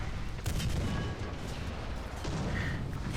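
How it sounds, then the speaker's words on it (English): Artillery shells landing in War Thunder during a British tank battle, a few dull booms and rumbling impacts over a constant low battlefield roar, moderately loud with no speech. "they've got artillery coming down"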